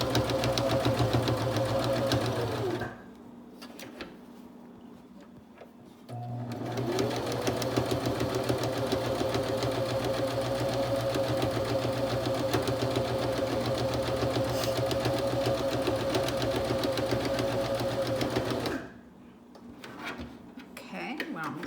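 A sewing machine stitching around a fabric face mask, running in steady buzzing bursts with a pause of a few seconds in between, then a long continuous run before it stops.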